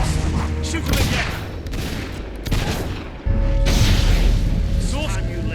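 Battle in Fable 3 with gunfire and explosions: a dense, continuous roar of shots and booming blasts under shouted voices, growing louder and heavier toward the end.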